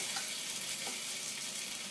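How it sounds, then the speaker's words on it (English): Roasted root vegetables tumble into a pot of soup, producing a continuous sizzling, frying hiss that stays even and close for the full two seconds. "Okay, in goes my roasted vegetables."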